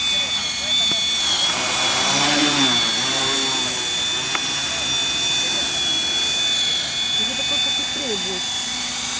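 A homemade tricopter drone powers up for takeoff, its motors and propellers giving a steady high whine with a broad rotor wash. The sound runs continuously at close range while people talk over it.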